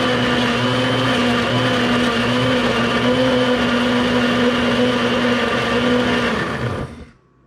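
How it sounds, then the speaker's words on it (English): A countertop blender runs continuously, mixing a smoothie with a loud, steady motor whine and churning for several seconds before winding down and stopping. "I'm gonna press that button right here and hold that down so that my smoothie can mix up pretty"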